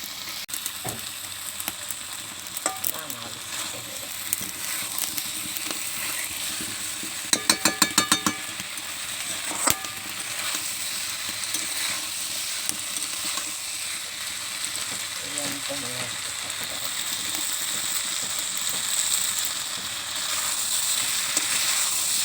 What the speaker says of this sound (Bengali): আর মশলা আর একটু ভাজি।